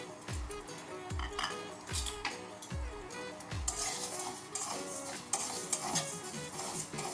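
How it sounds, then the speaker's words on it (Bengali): Mung dal dry-roasting in a pan for a Bengali potol dish, with a ladle scraping and clinking against the metal in repeated strokes at first, then a brighter hissing sizzle, close and without talking. "তো মুগ ডাল কটা আমি একটু ভেজে নিচ্ছি"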